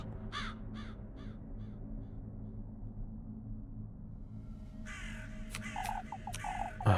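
Crow cawing inside the video game Little Goody Two Shoes: a few short harsh caws early on, then a louder cluster of caws near the end over a steady low ambient rumble.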